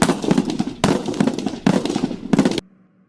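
A rifle fires in a video game, four loud bursts of rapid shots with brief gaps between them, the last one cutting off into near silence.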